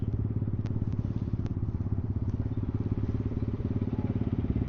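A motorcycle idles close by at a Wednesday bike night meet at Box Hill, its engine giving a steady, rapid low-pitched thumping pulse with no break, loud and continuous.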